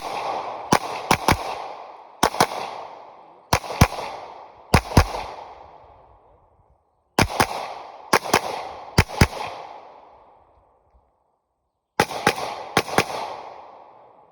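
Glock 17 pistol fired outdoors in sharp, loud shots arriving in quick strings of two to four, each with a booming echo trailing off, separated by silent pauses and no voices.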